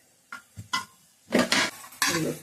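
Cooked chana dal tipped into a pan of spinach curry, a few soft thuds and scrapes of a spoon followed by two louder wet stirring bursts with a gentle sizzle, close and without speech.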